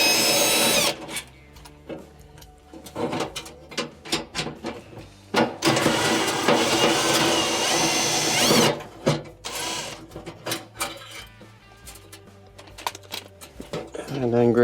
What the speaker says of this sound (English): with one hand holding your element, take the top screws out